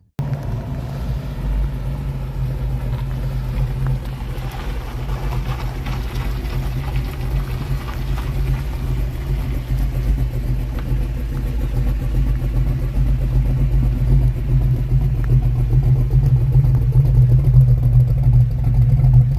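A small-block Chevrolet 383 stroker V8 with a lumpy cam idles in an HQ Holden Statesman, a deep, lumpy rumble, steady and close, growing slightly louder toward the end.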